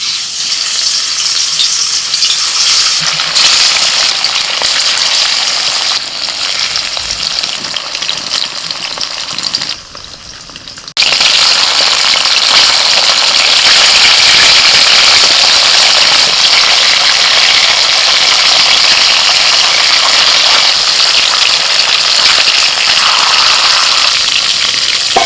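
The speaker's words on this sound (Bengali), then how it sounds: "কড়াইতে তেল গরম হয়ে গেছে, এবার ইলিশ মাছগুলো ভেজে নেবো" Hilsa fish fry in hot oil in a wok with a loud, steady sizzle that keeps going for the whole stretch, dropping away briefly once before roaring back at full strength.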